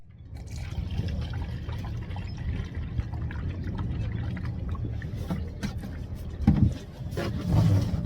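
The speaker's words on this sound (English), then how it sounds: "we'll pour antifreeze into the pump intake hose to back flush it as well" Antifreeze pours and trickles into the pump intake hose of a Yanmar boat engine being winterized, a steady close liquid flow with a few louder glugs toward the end.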